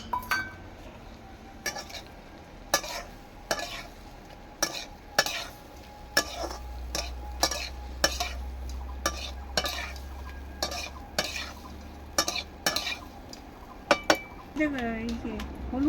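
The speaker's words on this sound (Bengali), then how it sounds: "এবার আলুগুলো দিয়ে দেবো।" Potatoes are added to a pan and stirred on a clay-stove fire, with a low frying sizzle under repeated sharp scrapes and clinks of a spatula against the pan, heard up close with no one speaking.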